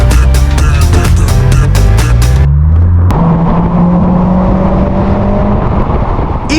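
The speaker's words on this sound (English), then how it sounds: "Gotta get the GTR in the garage ASAP." A Nissan GT-R's engine revs hard and loud up close, the pitch climbing through repeated rises before a sharp cut, then settling into a steady, throbbing idle as it pulls into a garage.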